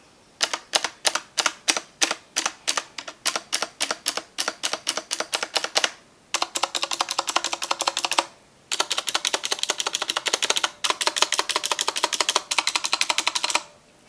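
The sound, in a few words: mechanical keyboard spacebar presses with stabilizers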